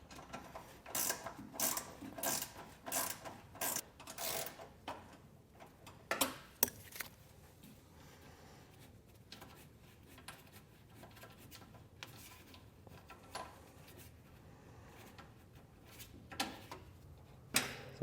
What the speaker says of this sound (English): I find these ratcheting box wrenches work pretty good